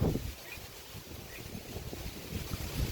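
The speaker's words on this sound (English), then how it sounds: "Wind's coming up good now." Steady wind gusting outdoors at Silver Springs, Florida, a broad low rumble buffeting the microphone with rising and falling surges, no voices.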